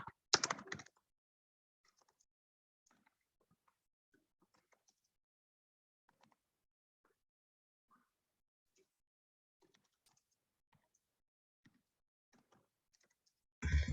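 Faint, sparse keystrokes tap out Java code on a computer keyboard, scattered light clicks in a near-silent room, framed by two short louder bursts of noise at the start and end.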